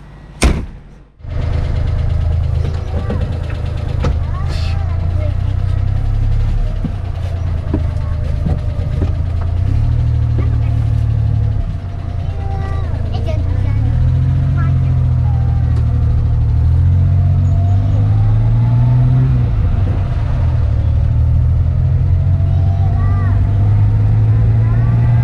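A Daihatsu Hijet 1000 car engine drones steadily and loudly from inside the cabin while driving, rising and falling in pitch as it revs through gears after a brief bump at the start.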